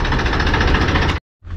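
A Swaraj 744 tractor engine runs loud and close with a rough, throbbing diesel chug, cuts out abruptly for a moment, then resumes.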